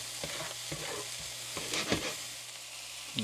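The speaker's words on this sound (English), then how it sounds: "Going to let those onions cook a little bit to become a little bit more on the clear side or translucent side." Onions and zucchini sizzle and fry in a HexClad pan for a breakfast scramble, a steady crackling hiss broken by occasional scraping stirs, close and clear.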